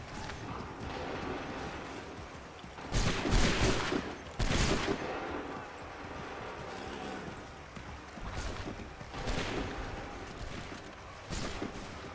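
Musket volleys in Assassin's Creed III crack out as loud massed bursts, two close together early on and more later, each rolling off over a continuous battlefield din.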